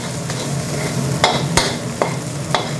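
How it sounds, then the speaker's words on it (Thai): Jasmine rice with egg stir-fried over high heat in a plain aluminium wok for Thai fried rice with dark soy sauce; a continuous sizzle runs underneath while a spatula scrapes and clanks against the pan four or five times at irregular intervals. "นี่จะผัดไฟแรงนะครับมันก็จะมีติดกระทะแบบนี้แหละเป็นกระทะอลูมิเนียมเราธรรมดา"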